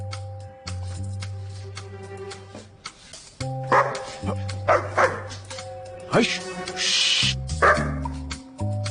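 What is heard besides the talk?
dog barking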